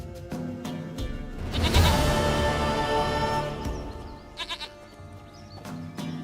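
A goat in The Witcher 3 bleats several times in short wavering calls, one long loud bleat in the middle, close and clear over quiet background.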